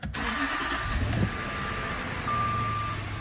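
A 2006 Jaguar XJ8 after an oil and coolant refill cranks and starts, then settles into a steady, close, fairly quiet idle with a brief higher tone as it catches.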